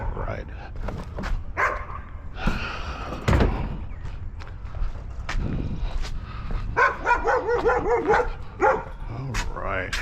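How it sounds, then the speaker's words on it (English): A dog barks indoors in repeated loud bursts, mixed with a door-like thump and a person talking throughout. "Sorry if you hear this dog"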